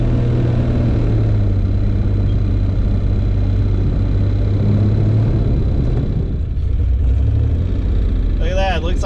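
A $500 Ford Ranger pickup truck pushes through about twelve inches of snow, its engine rumbling steadily and loud at close range throughout, with a brief dip in the drone near the end.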